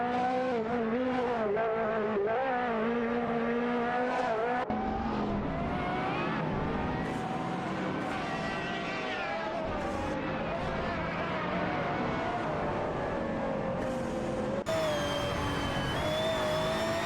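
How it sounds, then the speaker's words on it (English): A Koenigsegg and a Ferrari 458 Italia race on track, engines howling loudly and continuously with rising and falling pitch as they accelerate and shift, no pauses throughout. "The competition between these two cars is fierce as they navigate the track."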